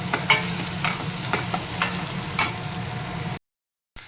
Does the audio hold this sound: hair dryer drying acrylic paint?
no